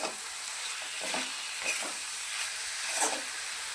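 Tomato chutney is stir-fried in a pan, giving a soft, continuous sizzle and hiss broken by several scraping strokes of a spatula, close and fairly quiet.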